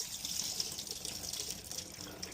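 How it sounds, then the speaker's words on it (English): Tap water gushes steadily into a pot of Sukoyaka Genmai brown rice for rinsing, a close, continuous hiss of pouring water with no voices. "Add some water, rinse it out."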